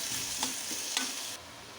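Onion with crushed chili and garlic stirred in a hot pan, a steady sizzle of frying with a few soft scraping strokes of the spoon, close and alone.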